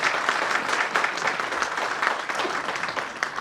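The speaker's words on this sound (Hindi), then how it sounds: "इनके लिए बहुत जोर से आप ताली करें" An audience at an astrology batch inauguration claps, dense steady applause from many hands filling the room without pause.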